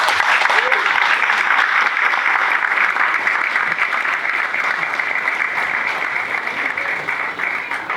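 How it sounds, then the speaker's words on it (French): An audience at a Star Wars convention panel in France applauds two visiting English authors, with dense, steady clapping and scattered voices throughout. "Vous pouvez les applaudir."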